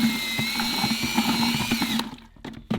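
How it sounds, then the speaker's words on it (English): A cordless drill fitted with a paint stirrer whirs steadily at close range, mixing weed killer in a sprayer tank, then stops abruptly about two-thirds through, leaving a few faint clunks. "I've got my handy dandy drill. This is a paint stirrer."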